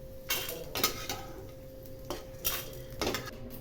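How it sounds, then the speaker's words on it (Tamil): Roasted urad dal is being shifted onto a plate, with soft scattered clinks and scrapes of a metal spoon against a pan and plate over a faint steady hum. "இப்போ நான் ஒரு பிளேட்டுக்கு இதை மாற்றிடுறேன்"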